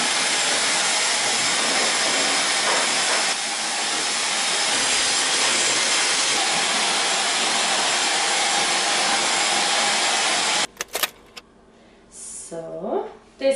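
A hair dryer roars steadily and close as bangs are blow-dried with a brush, a continuous loud whoosh that cuts out near the end, leaving brief handling noises.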